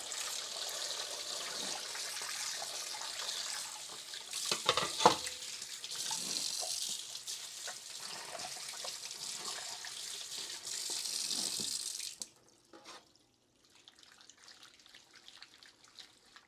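A kitchen tap runs steadily as shrimp are rinsed for moqueca, with the water spattering for about twelve seconds. Then it is shut off and only faint drips and small handling sounds remain.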